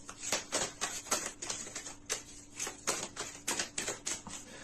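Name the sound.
tarot cards being shuffled and drawn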